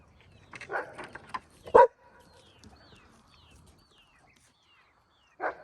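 A dog gives a few short barks and yips, then a final bark after a quiet pause, with faint birdsong in the background.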